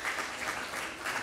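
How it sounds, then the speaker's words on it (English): An audience in a community breakfast gathering applauds a district director, a brief, fairly soft wash of clapping lasting just over a second. "Let's give her a round of applause."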